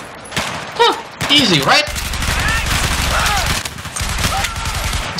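Rapid automatic fire from a CZ805 rifle in the video game Battlefield 4, loud sustained bursts with in-game effects, while a player talks over the shooting.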